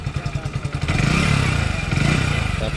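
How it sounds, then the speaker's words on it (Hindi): Hero Splendor Plus Xtec 2022 motorcycle engine running close by, a rhythmic thumping idle that swells into a steadier, louder drone when revved, with no speech. "इंजन का साउंड भी काफ़ी सही है, पहले से भी काफ़ी बोल्ड आपको साउंड ये देता है,"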